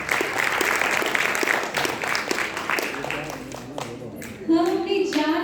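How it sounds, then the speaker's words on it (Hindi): Audience at a cultural function by blind artists claps loudly for a performer, dense clapping that thins out toward the end before a voice comes in. "एक बार जोरदार तालियां बबली प्रसाद के लिए।"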